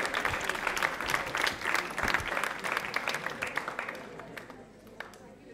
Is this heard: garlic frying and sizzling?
no